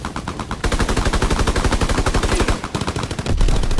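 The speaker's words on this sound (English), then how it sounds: "Taking heavy fire!" Rapid automatic gunfire in Call of Duty: WWII, a loud, close burst of fast, evenly spaced shots that keeps going with only brief pauses.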